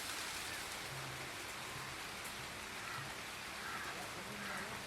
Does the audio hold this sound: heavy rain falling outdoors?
yes